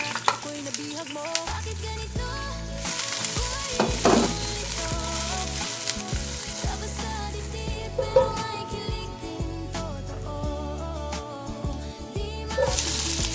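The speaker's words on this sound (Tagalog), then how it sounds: "3 tablespoons. Minced garlic." Minced garlic, about three tablespoons, sizzling and frying in a pan for soup, a steady loud crackle with occasional stirring scrapes, set against background music.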